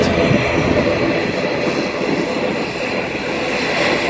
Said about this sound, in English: it looks like she's a little ATR 72